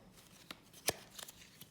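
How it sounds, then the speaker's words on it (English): A deck of playing cards gets a fast action shuffle: a few quick, sharp riffles and snaps close by, one louder burst standing out among lighter flicks, with no talk over them. "sometimes you gotta do a fast action shuffle"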